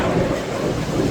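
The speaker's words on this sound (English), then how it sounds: "Big lightning strike." Thunder from a lightning strike over a Texas farm rolls out as a brief, loud, low rumble with no one talking.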